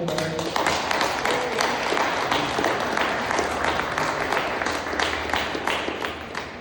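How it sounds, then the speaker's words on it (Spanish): A church congregation claps for a woman welcomed during a Sunday service, dense steady applause filling the room for several seconds before easing slightly toward the end, with a voice faintly beneath. "Un aplauso fuerte para ella."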